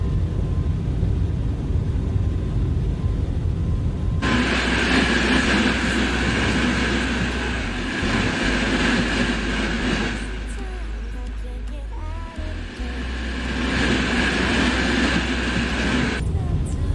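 An Impuls 45 VM electric train runs in the MaSzyna train simulator, giving a continuous rumbling, rolling drone with a steady electric hum that briefly dips and then returns.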